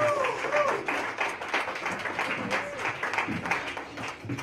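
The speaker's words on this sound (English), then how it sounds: "Let's give them another round of applause" Applause at a live community launch event in a Fitzroy pub. A scattered round of clapping runs close by, with someone talking over it.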